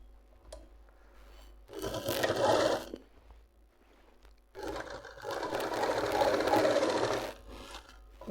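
A sewing machine stitches back and forth to secure the end of a seam on palazzo pants, in two close, busy bursts of motor whir separated by a short quiet gap.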